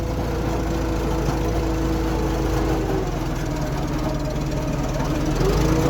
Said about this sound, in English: Nice and slow, it's just idling.